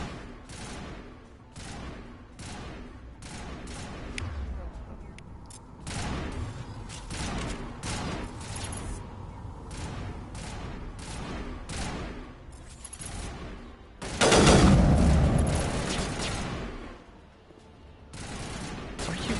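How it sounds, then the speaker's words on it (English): A Mass Effect firefight with rapid, continuous gunfire crackling throughout, bursts overlapping, and a heavier loud blast midway before the shooting resumes. "What are you guys shooting at?"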